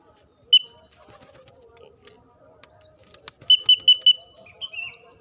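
Young pigeon's wings flap in a quick burst of clapping beats during flight training, with soft bird chirps and a few rapid flutters nearby.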